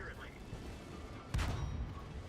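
A tank gun firing in World of Tanks during a KV-2 versus T-34-85 fight: a single heavy booming shot bursts out partway through, over quiet game ambience with a voice talking faintly.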